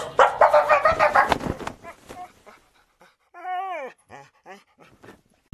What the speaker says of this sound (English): let me make you a dog